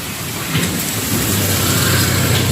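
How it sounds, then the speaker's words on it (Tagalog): Steady, dense rush of heavy typhoon rain with a deep low rumble underneath, loud and continuous with no voices. "tuloy-tuloy ang ulan simula kahapon pa ito"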